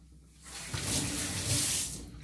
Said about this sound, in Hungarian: meg kell vizeznem a kezemet.